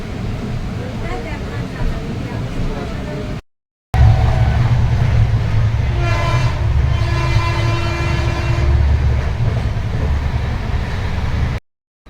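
A train pulls into the railway station at Bishnupur with a rumbling roll of railcars and a sustained horn blast midway, continuous and close, with voices faintly mixed in.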